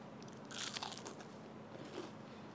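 A bite into crunchy fried chicken gold coin, a short burst of loud crisp crunching followed by a few quieter crunchy chews up close, with no talking.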